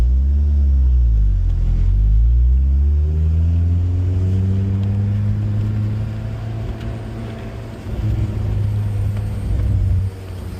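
A 2005 Honda S2000 running on E85 with the top down cruises along, its exhaust note droning steadily and rising and falling in pitch through shifts and acceleration, loud and close without talk.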